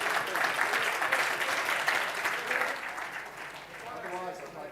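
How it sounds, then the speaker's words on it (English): An audience at a business summit in Athens claps for a company marking 100 years of activity: broad, steady applause that swells early and tapers slightly, with voices faintly audible underneath. "I think they deserve some applause for that."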